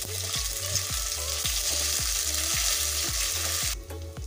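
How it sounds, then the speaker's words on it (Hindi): Ginger garlic paste fries in a pan with a loud, continuous sizzle, while regular scraping strokes of a stirring spoon repeat about twice a second, close up. "इसका कच्चा स्मेल जाने तक का हमें इसके भून कर लेना है।"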